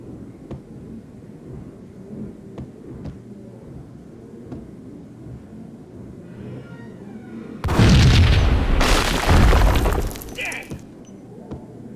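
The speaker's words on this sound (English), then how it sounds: "I thought it was a bomb for sure" A powerful blast in the video game Max Payne: after a stretch of quiet background with faint ticks, a sudden loud, booming explosion erupts and rumbles for about three seconds before dying away.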